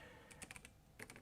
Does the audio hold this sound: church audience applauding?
no